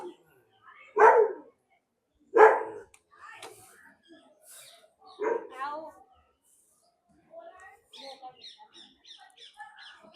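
A dog at an old Mahadev temple in Vadodara barks a few times in loud, separated bursts, with some fainter barks and distant bird calls, and people talking later on.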